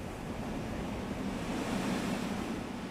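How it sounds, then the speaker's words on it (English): Ocean waves breaking over rocks, a continuous wash of surf and spray with a steady roar and some wind, moderately loud and unbroken throughout. "We can think of these waves leaping over the rocks"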